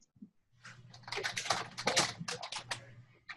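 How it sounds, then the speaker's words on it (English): Someone types fast on a computer keyboard, a dense burst of quick clicking keystrokes that rises and falls over about three seconds, fairly close and on its own. "Somebody's typing furiously."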